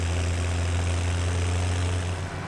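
Tractor engine idling in a farming video game, a steady low throbbing hum that holds loud and even throughout, easing slightly at the end.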